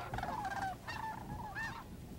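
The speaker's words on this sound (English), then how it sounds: "Geese prefer open areas for feeding, where they are less vulnerable to coyotes" Geese honking at Bosque del Apache wildlife refuge in New Mexico, three distinct nasal honks in a loose sequence, fairly faint and somewhat distant over soft background noise.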